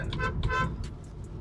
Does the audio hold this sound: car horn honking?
yes